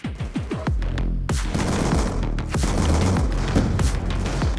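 Rapid M1216 shotgun blasts in Black Ops 2 fire in a close, loud burst of about half a dozen booming shots, followed by continuous gunfire and rumbling explosions from the match.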